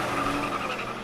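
Denny Hamlin's Toyota NASCAR race car doing a celebration burnout, sustained loud tire squeal and skidding over a roaring engine, steady for the whole second with no talk.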